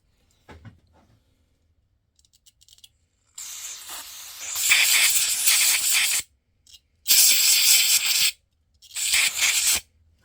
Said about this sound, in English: I'm just gonna use some brake cleaner.